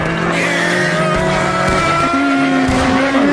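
Players in a Civil War battle game voice race car noises together, a loud mix of sustained droning vocal tones with rising and sliding pitches that imitate engines and tire squeals, continuous for the whole stretch.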